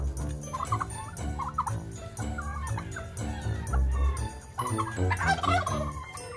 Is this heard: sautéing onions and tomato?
no